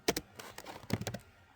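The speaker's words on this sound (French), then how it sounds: "excusez-moi pour le petit bruit de clavier si on l'entend beaucoup" Quiet, scattered keyboard clicks in two short bursts, a handful of light taps each, close to the microphone with no voices.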